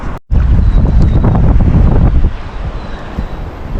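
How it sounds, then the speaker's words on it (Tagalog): Strong wind at sea blasts loud and continuous against the microphone aboard a fishing boat, with a roaring, buffeting rush that eases slightly toward the end. "Lakas ng hangin guys."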